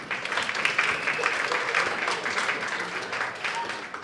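A comedy club audience claps steadily and densely throughout, a sustained burst of crowd applause filling the room without pause.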